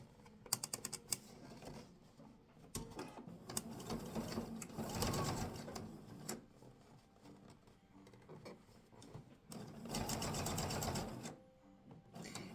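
Sewing machine stitching bias binding around a corner of fabric, running in several bursts of rapid stitching separated by short pauses, close and fairly loud with no talk.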